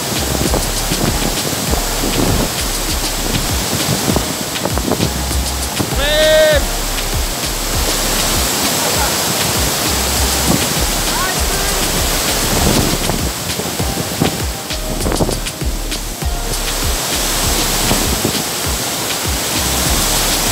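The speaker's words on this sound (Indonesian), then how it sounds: "saya di air terjun Bayang Sani tingkat 3" Roaring broadband rush of the third tier of Bayang Sani waterfall, a steady loud wash of falling water close by, with a brief bird-like chirp rising over it midway.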